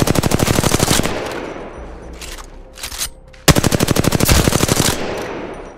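Rapid automatic gunfire in Apex Legends training, two long loud bursts of evenly spaced shots separated by a short pause with a few scattered single shots.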